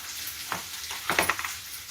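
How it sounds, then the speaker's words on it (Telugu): Coriander, mint and curry leaves fry lightly in a pan, giving a soft, close sizzle with a few sharper crackling bursts as they are stirred; no one speaks. "కొత్తిమీర, పుదీనా, కరివేపాకు కదా, ఇలా లైట్గా ఇది వేగాలి."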